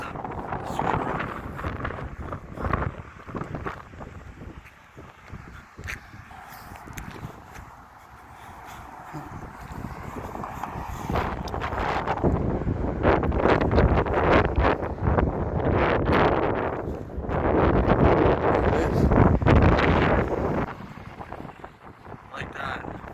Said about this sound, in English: Man, it's windy up there.